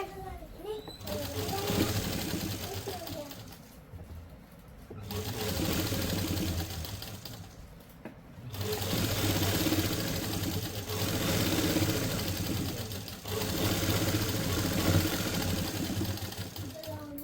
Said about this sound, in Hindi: एक सिलाई और लगा लेते हैं हम अच्छे से फिनिशिंग देने के लिए।